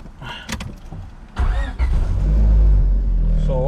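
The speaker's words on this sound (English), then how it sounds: "Let's start this bad boy up." A Honda Civic EG with a manual conversion cranks and fires up, the engine catching into a loud steady idle after a few short mechanical clicks and rustles inside the car.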